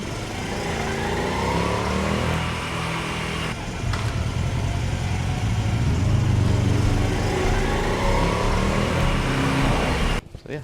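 A 4-stroke motorcycle engine runs steadily close by with a rumbling low drone, rising slightly in pitch as it revs midway, then cuts off abruptly near the end.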